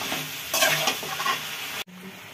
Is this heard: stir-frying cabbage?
yes